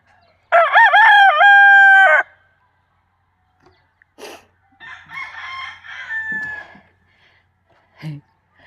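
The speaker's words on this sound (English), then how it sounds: "Oh, here are the roosters." A rooster in Malapascua, Philippines, gives one loud, close crow. Fainter clucks and calls from other fowl follow, with soft human voices in the background.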